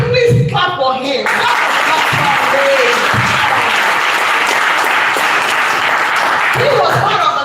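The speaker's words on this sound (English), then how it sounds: "I will quickly clap for him." An audience claps for Raymond, a forex coach, in a dense, steady burst of applause that fills the clip, with a voice briefly heard at the start.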